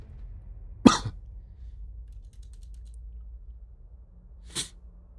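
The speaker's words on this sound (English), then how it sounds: "I have this cough where it's so loud" A single loud, sharp cough bursts out near the mic, and a second, quieter cough follows a few seconds later over a low, steady background hum.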